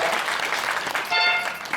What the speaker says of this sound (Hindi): एक बार फिर ताली हुई जाए